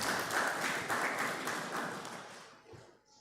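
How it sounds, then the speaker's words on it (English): Audience applause at the Uganda Medical Association swearing-in and handover ceremony, a steady wash of many hands clapping in a hall that gradually fades out. "Please give a round of applause."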